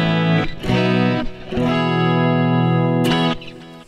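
A clean electric guitar on the middle pickup position rings out in sustained chords, with a few brief pauses and restrikes between them, bright and full.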